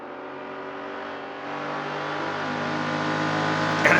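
A Hillman Imp and a Mustang race in the Assetto Corsa video game, engines droning and revving steadily close by with rising pitch as they accelerate, ending in a brief burst of noise.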